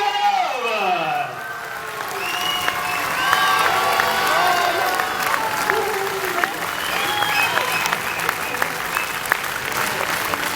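A cinema audience at a film premiere gives the cast a long, loud round of applause, with dense clapping, cheers and whoops, while voices call out over it and a few children shout in the crowd.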